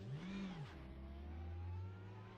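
A race car engine in RaceRoom strains and bogs at low gear, its tone dipping and then droning at a low, labored pitch with a faint turbo-like whine above it and no talk.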